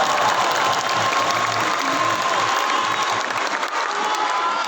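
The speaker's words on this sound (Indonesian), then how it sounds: "Tepuk tangan untuk para pejuang reformasi kita." An audience applauds reform fighters at a national gathering, a dense, sustained wash of clapping with scattered cheers that holds steady throughout.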